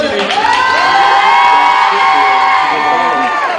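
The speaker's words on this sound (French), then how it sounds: "Applaudissements pour Charles" A studio audience at a televised interview bursts into loud, continuous cheering and whooping, with applause filling the whole stretch.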